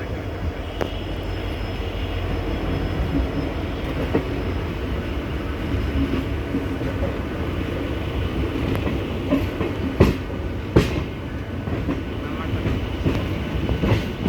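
A Panskura local train running on rails near the Kanchrapara workshop, a loud continuous rumble and roar with periodic sharp clacks of wheels over rail joints, heard from on board.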